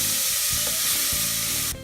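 Garbanzo beans and garlic sizzle and crackle steadily in a hot pan as they toast, a dense continuous frying hiss with faint stirring scrapes, close and fairly loud, no voices.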